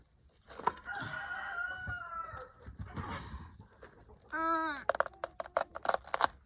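Chickens cluck and squawk close by on a farm in an irregular series, with one longer, louder call partway through and scattered short clucks after.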